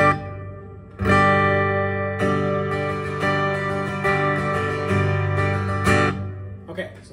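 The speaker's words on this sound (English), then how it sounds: "Here's the sound of my acoustic guitar with just the EQ and some plate reverb." Acoustic guitar played through EQ and plate reverb, with strummed chords ringing out in sustained, bright harmonic layers and fresh strums at regular intervals, close and clear with no voices.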